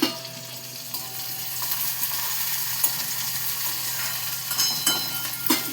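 Onion and green chilli fry in a pan for a cluar bean and potato dish, a steady close sizzle with occasional louder spatters and stirring clatter, no voices.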